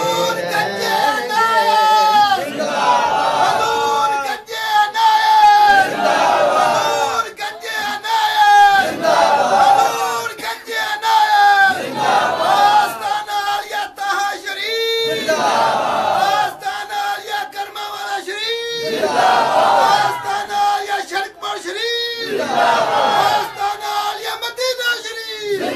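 A large crowd at a religious gathering chants slogans in unison, loud and rhythmic, with repeated call-and-response phrases rising and falling throughout.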